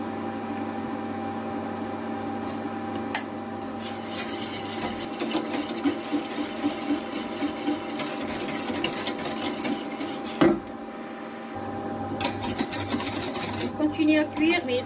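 Egg yolk mixture being stirred in a pan, heard as continuous scraping and clinking of a utensil against the pan under a steady background hum.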